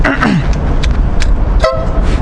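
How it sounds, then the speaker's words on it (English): Horn of a Honda CTX700N motorcycle sounding close and loud, a few short honks over steady engine idle and road noise. "I've got this awesome horn, which is pretty loud."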